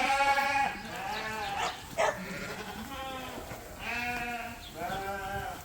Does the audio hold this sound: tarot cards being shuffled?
no